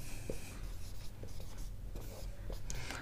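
Marker or chalk taps and strokes on a classroom board as maths is written out, a series of short scratchy contacts in an irregular rhythm over low room noise, with no talking.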